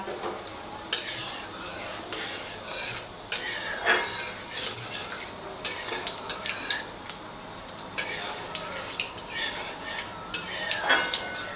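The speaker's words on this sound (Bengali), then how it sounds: "এবারে তেলের মধ্যে ফোড়নে দিচ্ছি কালো সর্ষে, গোটা জিরে, একটা শুকনো লঙ্কা।" Black mustard seeds, whole cumin and a dried chilli tempering in hot oil: a soft background sizzle broken by frequent sharp spatters and crackles, with metal utensil clinks against the pan.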